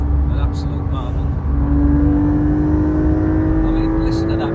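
A Porsche 992.2 Carrera flat-six cruising fast on the Autobahn, heard from inside as a loud, steady engine drone that slowly climbs in pitch, with brief voices from the cabin.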